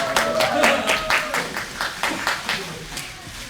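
Applause at a Korean TV show press conference as actor Lee Sung-jae is welcomed on stage: a short burst of rhythmic clapping with crowd murmur and voices underneath.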